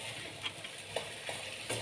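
Menemen, Turkish eggs and tomatoes, frying in a pan, a soft continuous sizzle with a few light stirring clicks, close and fairly quiet.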